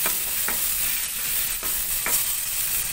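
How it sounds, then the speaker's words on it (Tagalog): Onions sautéing in a pan give a steady, close sizzle with a few soft scrapes of stirring spaced through it, and nobody speaks. "initos lang natin hanggang lumabas yung aroma sa ating sibuyas"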